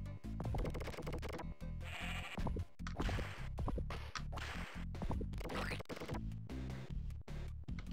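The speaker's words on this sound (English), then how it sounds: "because we heard that cow sound" A cow moo sound effect from the Mega Drive video game Earthworm Jim, repeated bleating calls mixed in with busy game music and percussive hits, fairly loud throughout.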